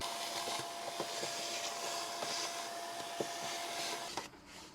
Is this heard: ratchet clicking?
no